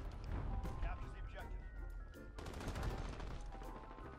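Rapid automatic rifle fire from a Grau in a first-person shooter video game, dense repeated shots in two long bursts with a short gap between them, fairly loud over background game noise.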